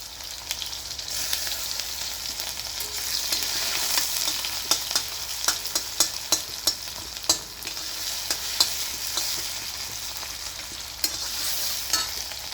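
Onions fry in hot oil in a pan with a steady sizzle, while a spoon stirs them in a run of repeated scraping clicks close by.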